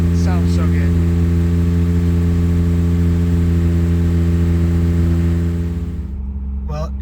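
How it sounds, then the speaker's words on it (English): A Toyota MR2 with a 2GR V6 engine idles high at about 2000 RPM while warming up, giving a loud, steady, even drone close by that eases down near the end. "that's just such a wonderful sound, that 2000 RPM idle as it's warming up"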